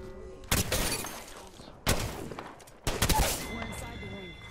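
Gunfire in a video game: three loud, abrupt bursts of rapid shots, each decaying into a rattling tail, close and dominant.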